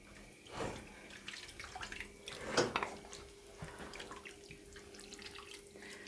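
Water drains from a cooking pot of menudo into a sink, a faint, uneven pour and splash with a stronger gush near the middle, tapering to light trickles.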